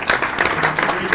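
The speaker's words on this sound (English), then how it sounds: "Give them a round of applause" A brief burst of dense clapping from an audience at a tech talk, thanking the hosts, close and lively.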